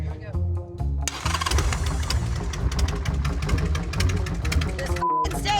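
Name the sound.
motorcycle engine starting and revving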